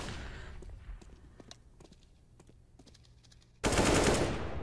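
Gunfire in Counter-Strike: Global Offensive: a string of sharp, close shots with light footsteps between them, ending in a loud sustained burst of automatic fire.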